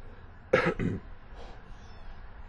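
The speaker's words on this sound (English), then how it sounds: "No, actually, I just cleared my throat." A single short throat clearing, two quick harsh rasps close together, followed by quiet room tone.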